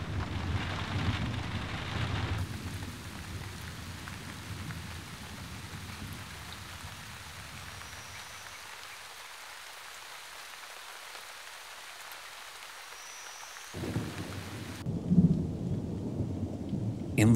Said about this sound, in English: The rain pours down all over Alamto.